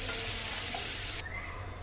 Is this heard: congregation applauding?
no